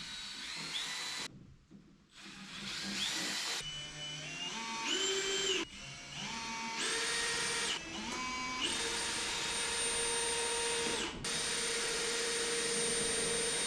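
Cordless drill pre-drilling screw holes in a wooden box, heard as a string of whining motor bursts that rise in pitch and sustain for several seconds each, loud and close, with brief pauses between holes.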